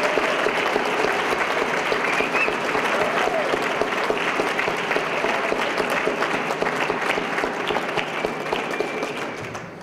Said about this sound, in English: I'd like a rousing round of applause for our great MAG staff for putting on this program tonight